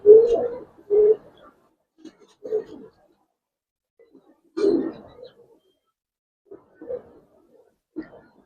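Giribaz pigeons at a sale coo in a series of short, low, throaty bursts with gaps of silence between them, fairly close.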